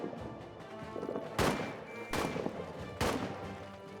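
Gunfire during a trench battle in the game All Quiet in the Trenches: three sharp, loud shot bursts at roughly one-second intervals over a low, busy battlefield rumble.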